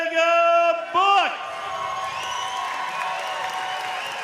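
A fight crowd at a triangle-choke win announcement, a loud announcer's voice giving way to a steady wash of cheering and clapping that holds at moderate level to the end.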